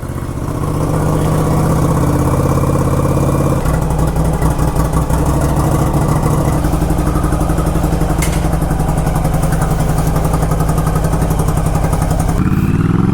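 A Yamaha Virago cafe racer motorcycle idles with the choke on, its engine running loud and close in a steady, slightly uneven throb that shifts pitch a few times as the revs settle.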